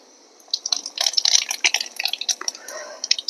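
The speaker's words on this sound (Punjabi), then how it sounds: "ਲਓ ਆਪਣਾ ਤੇਲ ਗਰਮ ਹੋ ਗਿਆ ਆਪਾਂ ਜੀਰਾ ਪਾਵਾਂਗੇ" Cumin seeds dropped into hot oil in a village kitchen sizzle with bursts of crackling and popping, starting quietly and building into a dense, close spatter that keeps flaring up.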